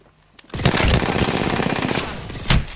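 Rapid automatic gunfire in the battle royale game Apex Legends, a loud sustained burst starting after a short quiet lead-in and continuing to the end, with a sharper spike near the close.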